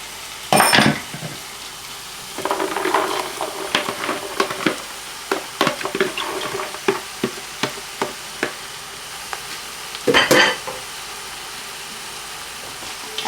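Okra tossed into a pan of lightly sautéed onions for a Pakistani bhindi dish, crackling and sizzling with a burst at the start, then a run of spatula scrapes and knocks, and another loud burst near the end.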